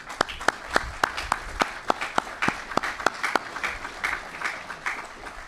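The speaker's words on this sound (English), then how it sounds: "a round of applause for them" An audience at a veterans' outreach center opening claps, loud distinct hand claps from a modest crowd keeping up a steady applause throughout.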